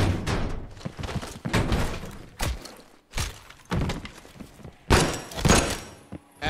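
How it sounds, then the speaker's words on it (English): A door being opened in the Call of Duty Black Ops Cold War campaign, a run of heavy thumps, clanks and bangs in quick irregular bursts, loud and close, with no voices. "Open the door."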